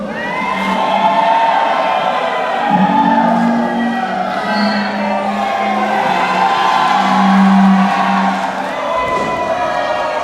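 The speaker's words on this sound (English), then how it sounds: "Looks like some boos for Mr. 450 and cheers for Juventud" A wrestling crowd at a Lucha Libre Supershow main event between Mr. 450 and Juventud Guerrera gives a sustained roar of mixed boos and cheers, a dense, loud wash of voices that swells and holds for about ten seconds.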